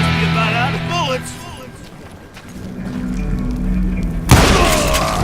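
An explosion in the western shooter Call of Juarez Gunslinger bursts out suddenly and loudly near the end, after a stretch of voices and rumbling game sounds.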